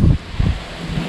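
Wind gusts buffet the microphone at a hillside campsite on a family farm in Nasugbu, Batangas, two or three rumbling bursts, close and fairly loud, with no talk.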